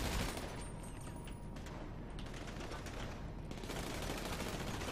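Submachine gun fire in GTA V Online on PC: a dense, continuous rattle of rapid shots sits amid a noisy, chaotic battle, fairly loud and sustained with no gaps.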